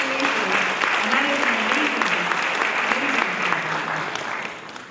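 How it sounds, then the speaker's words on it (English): An audience at a community college convocation gives sustained, fairly loud applause from a large crowd, with a faint voice underneath, fading slightly toward the end. "So please give yourselves a huge round of applause"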